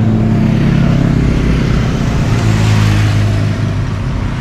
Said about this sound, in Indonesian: Ini klub motor